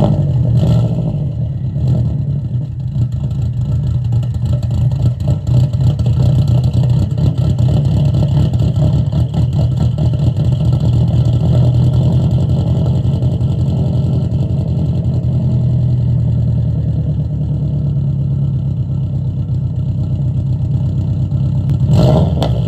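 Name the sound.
2.5 swapped Subaru Bugeye WRX engine starting and running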